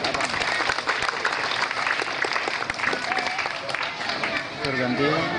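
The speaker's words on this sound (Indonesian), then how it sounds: "Tepuk tangan dulu." Applause from an audience at a closing event of a pesantren English community, with steady dense clapping filling the whole stretch, loud and continuous, with a voice briefly heard near the end.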